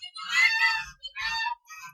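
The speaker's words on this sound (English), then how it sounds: "excuse the geese." Farm geese honk in two loud, harsh calls in quick succession, close by, with no talk over them.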